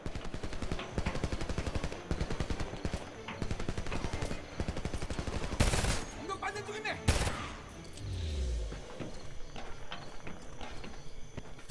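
Rapid machine gun bursts from a first-person shooter, Homefront, rattle densely through the first half, then give way to scattered shots, loud impacts and a low rumble.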